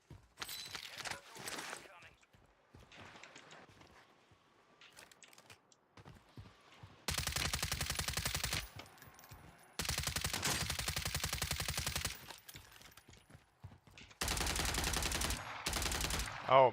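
Video game gunfire: sustained bursts of automatic fire in several long blocks, fairly loud against quieter stretches where a player speaks and keys click.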